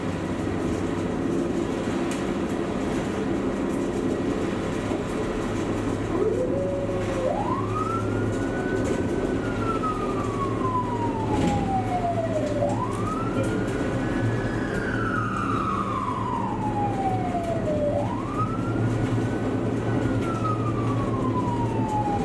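Ambulance siren wailing in long rising and falling sweeps while driving through an underpass on a wet, snowy night, loud and steady over a constant low road rumble.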